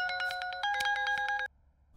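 A telephone ringtone plays as an electronic melody of bright, steady tonal notes repeating for about a second and a half, then stops abruptly.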